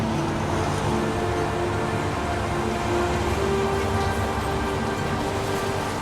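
Steady rain falls in the video game Heavy Rain, a continuous broadband hiss with faint low traffic-like rumble underneath, no voices, holding even throughout.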